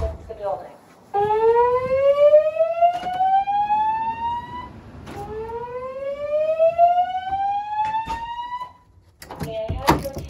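A dormitory building's fire alarm test sounds two loud electronic whoops, each tone sweeping upward for several seconds before cutting off and restarting.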